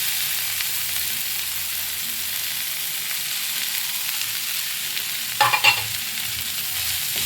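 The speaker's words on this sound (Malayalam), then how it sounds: "ഇതൊന്ന് നല്ല മിക്സാക്കി കുറച്ച് നേരം വേവിക്കുക." Grated coconut and softened tomatoes cook in a pan for a chutney, giving a steady close sizzling hiss throughout, with a short burst of louder spatula scraping near the end.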